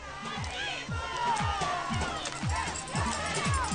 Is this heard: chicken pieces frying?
no